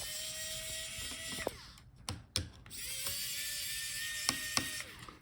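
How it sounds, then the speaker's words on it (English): Small electric screwdriver whirring in short rising runs and a few clicks while hinge screws are removed from an HP Envy 17m laptop during a teardown, close and fairly quiet. "unscrew the screws for the hinges"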